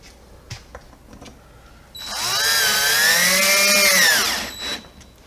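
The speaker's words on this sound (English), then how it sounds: "you can drill and screw in all the other ones" Power drill boring screw holes for deluxe trim on a VW T1, one close, loud whirring burst lasting under three seconds after a quiet start, its pitch rising slightly before spinning down.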